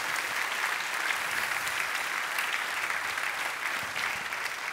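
A church congregation applauding: dense, steady clapping from many people, filling the room at an even level for several seconds.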